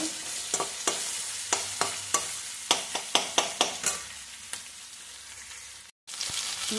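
Onions frying in a pan make a steady close sizzle with a run of sharp scraping stirs at a quick, uneven rhythm, then the hiss carries on alone after a brief drop near the end.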